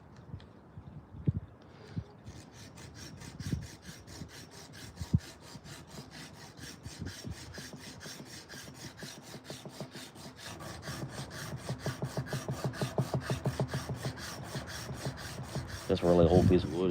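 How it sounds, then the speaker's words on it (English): A carved wooden spoon is sanded by hand with a strip cut from a power sander belt, giving soft rasping rubs that turn into steady rapid back-and-forth scratching, close and fairly quiet. "we'll use our little sanding strip here,"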